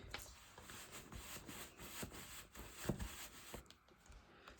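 A box is rubbed and wiped clean by hand, producing faint, close, repeated scrubbing strokes in an uneven rhythm with no talking.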